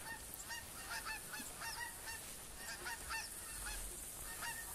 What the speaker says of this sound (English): Look at all the frickin' geese. I think that's a flock there,